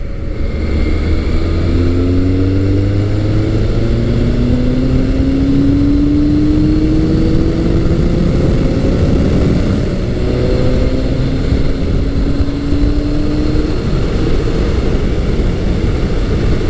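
A 1986-1988 Yamaha FJ1200 motorcycle engine under way, a loud steady drone whose pitch climbs and shifts through the gears with continuous wind rush, no talk.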